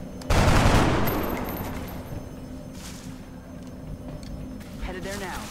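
A single rifle shot fires in the turn-based strategy game XCOM: Long War, loud and close, its boom trailing into a decaying rumble under faint background game ambience.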